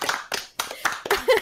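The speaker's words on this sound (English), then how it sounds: "Everyone, a round of applause for this man." A small group claps in a round of applause at a Q&A session, a few short uneven bursts of close hand claps separated by brief gaps.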